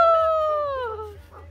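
Dog in a snowy mountain setting giving a single drawn-out howling cry that slides downward in pitch and fades over about a second.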